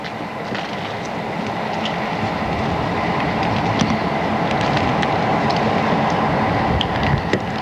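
A train rumbles steadily along the tracks, with a continuous low roar, scattered metallic clicks and faint squeals, growing slightly louder.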